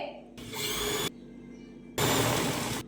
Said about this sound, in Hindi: अब हम दूसरी साइड की सिलाई लगाएंगे।